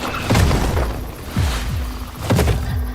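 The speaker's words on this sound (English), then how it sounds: "Follow the sound of Lincoln's cannons." Three deep cannon booms, about a second apart, each rolling out with a heavy echoing rumble.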